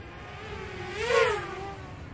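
A Walkera Rodeo 150 drone flying over an open field on a sunny day gives a thin, steady whir that rises in pitch and swells louder in a brief throttle surge, then settles back.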